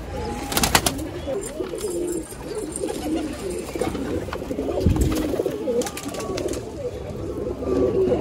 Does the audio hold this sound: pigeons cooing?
yes